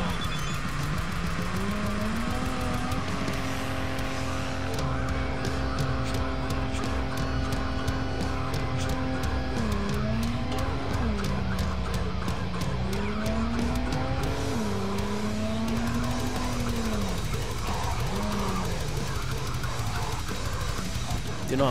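A car drives and skids in Cyberpunk 2077, a droning engine rising and falling with shifts while tires squeal in long sliding wails, loud and continuous.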